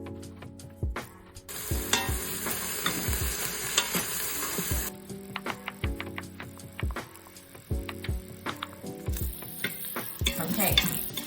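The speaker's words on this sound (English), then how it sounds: "add in the bacon pieces as well as the onion and let that saute" Turkey bacon pieces and onion sautéing in olive oil in a pan for potato soup, a steady sizzle broken by repeated clicking stir strokes, close and fairly loud, with no talking.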